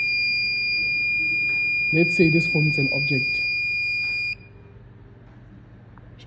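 A smart trailer's reversing proximity sensor sounds a steady, piercing electronic buzzer tone close by that holds for about four seconds and then cuts off, while someone speaks over it.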